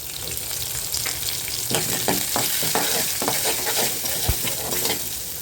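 Chana dal, urad dal and dried red chillies frying in hot oil, giving a steady close sizzle broken by clusters of sharp crackles and pops, with a few light stirring scrapes in the pan.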